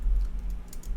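Typing on a computer keyboard while entering text in Photoshop, a short run of light, close key taps over a steady low hum, with no talking.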